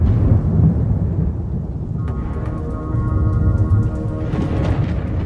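A thunderstorm rumbles with deep, rolling thunder over a steady wash of heavy rain, loud and close, with the low booms swelling and fading across the stretch.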